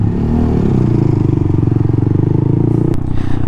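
Honda Monkey 125 motorcycle, a 2019 model with a louder aftermarket exhaust, idling close by with a steady, throbbing burble for about three seconds before the note changes briefly near the end.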